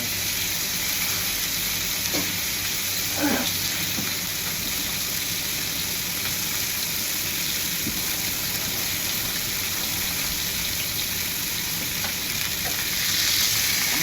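Oil sizzles and crackles steadily in a pan while fish is fried for purslane fish soup, a close, even hiss that carries on throughout with a few brief clatters.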